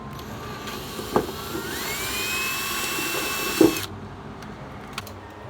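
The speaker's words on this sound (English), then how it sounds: "I'm gonna drill a center hole so I know where to cut the full circle" Power drill boring a center hole through the floor of a 2023 RAM Promaster van from underneath, a steady whine running for several seconds under a faint broad hiss, then cutting out, with a couple of knocks.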